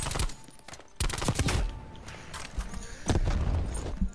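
Rapid bursts of SMG fire in Black Ops Cold War, sharp repeated cracks in quick clusters, loud and close throughout.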